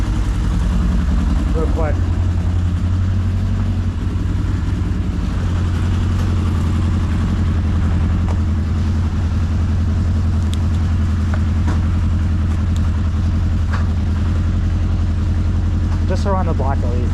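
A 1981 Honda CB900 motorcycle engine runs steadily close by, a loud continuous low rumble throughout, with someone talking briefly over it.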